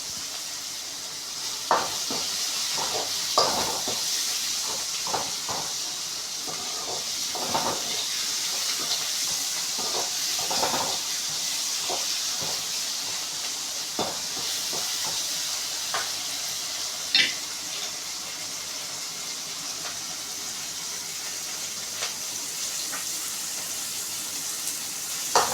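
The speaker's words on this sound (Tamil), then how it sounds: "இப்போ வெங்காயம் தக்காளியெல்லாம் நல்லா வதக்கிக்கலாம்." Onions and tomatoes sauté in a pan under a steady loud sizzle while a spoon scrapes and stirs in scattered knocks throughout, for a vegetable dish with okra.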